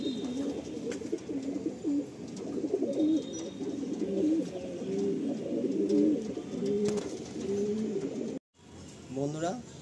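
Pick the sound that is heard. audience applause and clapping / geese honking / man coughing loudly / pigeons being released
pigeons being released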